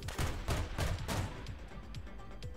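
A CV9035 DK autocannon firing in a video game, a quick series of heavy, evenly spaced booming shots about a third of a second apart, loud and close, fading into a rumbling tail.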